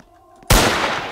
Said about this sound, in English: The gunshot is just so loud.